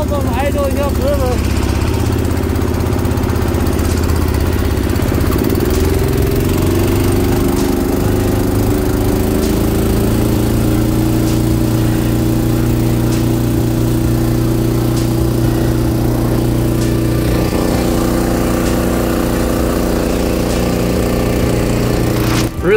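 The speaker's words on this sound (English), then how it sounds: "So no problem idling up river." An 18hp Duromax 440cc mud motor idles steadily on a 14ft V-hull boat heading upriver, a loud continuous low engine drone that shifts slightly in pitch early on and holds close throughout.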